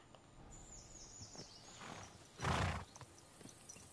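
A horse neighs loudly and close in the medieval game Kingdom Come: Deliverance 2, a single burst standing out over soft hoof clops and quiet ambient noise.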